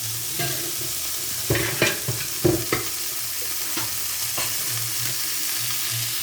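Fish fries in hot oil and margarine with a constant bright sizzle, broken by a few louder scrapes and stirs of a utensil in the pan, close and clear with no voices.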